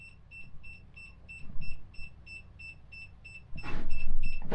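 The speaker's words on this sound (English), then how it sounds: "What the hell's beeping?" A camper's electrical system, its battery dying, gives off a steady run of short, evenly spaced electronic beeps that repeat throughout, with low rumbling handling noise underneath and a louder clatter near the end.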